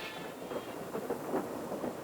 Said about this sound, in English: The train pushed on, but didn't quite make it.